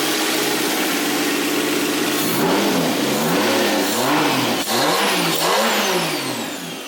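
A 2JZ-swapped Nissan S14 drift car engine revs steadily, running loud and close with rising and falling pitch sweeps throughout, the note dipping briefly once before fading slightly at the end.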